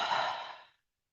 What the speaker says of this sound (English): And then one more time and exhaling.